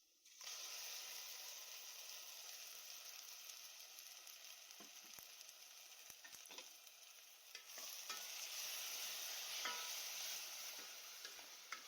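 Ground onion and tomato paste pours into a hot pan for a tamarind curry, giving a steady, loud, broad sizzle and hiss that runs throughout with occasional stirring clicks.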